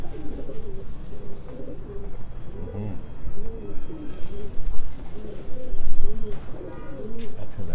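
Several pigeons coo close by in repeated, overlapping rounded calls, a soft continuous chorus with a little background murmur.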